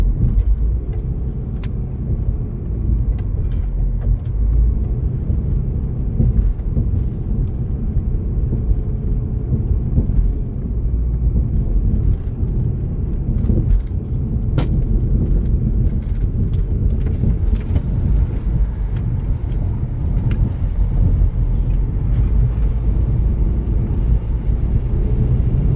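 A car climbing Mount Lemmon Highway near Tucson, Arizona, heard from inside the cabin: a constant low road rumble and engine drone with scattered faint clicks and thumps, no voices.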